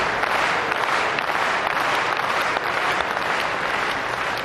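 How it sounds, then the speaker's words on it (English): Spectators at a table tennis match in Germany applaud steadily, a thick continuous wash of clapping filling the hall from start to end. "The crowd here in Germany definitely partying up the table tennis."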